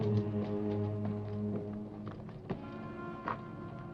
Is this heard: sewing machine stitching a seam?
no